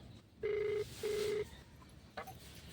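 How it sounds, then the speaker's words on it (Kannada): Ringback tone of an outgoing phone call: two clear, evenly spaced tone bursts, each close to half a second long, followed by a brief faint click and quiet line noise. "ರಿಂಗ್ ಆಗತ್ತೈತ್ರಿ"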